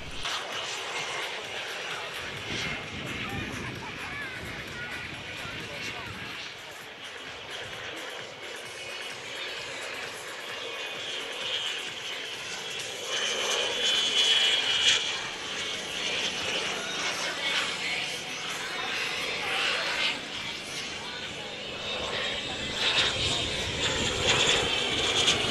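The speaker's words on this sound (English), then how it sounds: "Next, we have a display with this Pilatus PC-21 from the Tomahawk kit." A model Pilatus PC-21 military trainer with a miniature turboprop engine, flying at an outdoor model airshow, its steady whining engine drone rising and falling as it passes, with crowd murmur and talk underneath.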